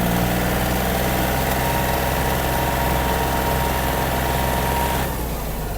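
Yanmar AF-26 Japanese mini tractor with a semi-hydraulic gearbox running at full throttle in fourth gear, a loud, steady close engine drone with buzzing vibration that eases off slightly near the end.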